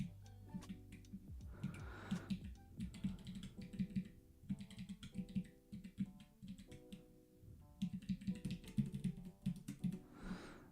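Computer keyboard typing while live-coding a quiz app, in uneven bursts of quick clicky keystrokes with short pauses between flurries, fairly close and fairly quiet.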